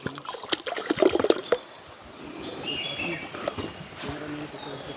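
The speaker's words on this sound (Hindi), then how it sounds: "धोने के बाद अब इससे इस पानी को फेंक देता हूँ।" Washing water is poured out and tossed away outdoors deep in a forest, giving a brief burst of splashing and sloshing, followed by faint drips amid light ambient sounds and someone talking.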